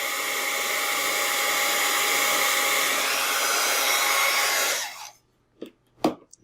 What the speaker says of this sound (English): now I'm going to emboss and melt the gold embossing powder